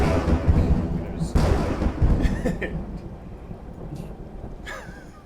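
Thunder sound effect set off by a lightning button during a tabletop Dungeons & Dragons session: heavy rolling rumbles with two sharp cracks, slowly fading away as a voice speaks faintly underneath.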